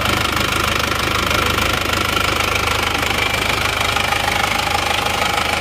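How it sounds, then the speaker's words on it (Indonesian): A damaged-liner diesel engine in an automatic Isuzu Panther runs with a steady, loud knocking clatter over a constant engine drone, continuous and close throughout. "Jadi suara mesinnya seperti itu."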